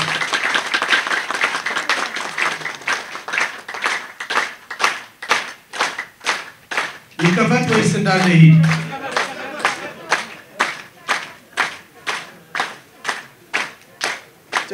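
An audience claps in slow, steady unison at a gift-presentation ceremony in Ethiopia, about two beats per second, loud and close, with a short spoken question breaking in partway through.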